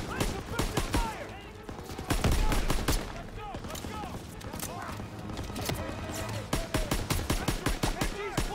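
Heavy gunfire in a Call of Duty WWII battle on Hill 493, soldiers laying suppressing fire on a machine-gun nest; dense rifle and automatic shots crack throughout amid shouting voices and battle noise.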